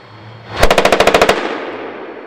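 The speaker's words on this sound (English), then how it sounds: "M240C machine gun mounted to right of the Bushmaster fires" An M240C 7.62mm machine gun mounted beside the Bushmaster cannon on a Bradley IFV fires one rapid burst of about ten loud, evenly spaced shots, with no voices, then a fading echo.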